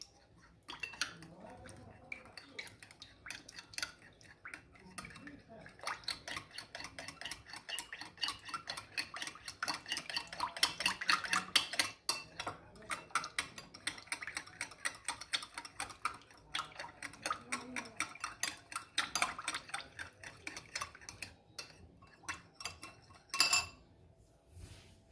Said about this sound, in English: just give that a stir